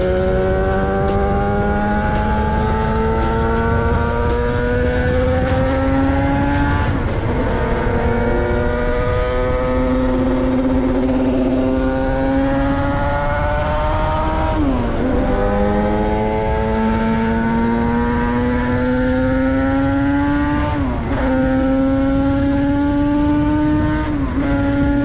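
Custom two-stroke motorcycle called the Mutant revving hard, loud and close, with rising pitch sweeps broken by gear shifts or throttle dips roughly every seven seconds, no talking.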